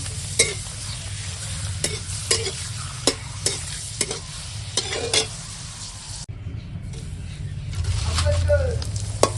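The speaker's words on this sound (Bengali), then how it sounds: "পাঁপড় ভেজে ভেজে তুলছি" Papad fries in hot oil with a steady, loud crackling sizzle broken by sharp pops and bursts, and the hiss softens briefly partway through.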